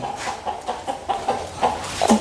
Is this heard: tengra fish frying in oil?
no